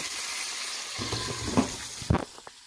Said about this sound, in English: let's check in on the bacon. Oh, it's getting there. It's sizzling.